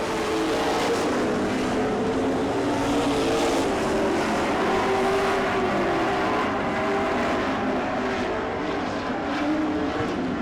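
Several dirt-track race cars roar together as they finish a heat race at a speedway, a dense, sustained engine drone with shifting pitch that stays loud and steady throughout.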